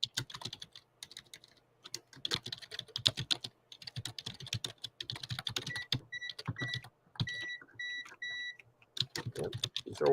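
Computer keyboard keys are tapped and tested in quick bursts with short pauses between, joined midway by a few thin electronic beeps.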